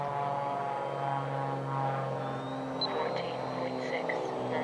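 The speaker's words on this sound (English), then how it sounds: "Oh, here comes a plane." A model airplane drones steadily overhead with a continuous buzzing propeller tone, fairly loud and even throughout, with a faint whistle rising partway through.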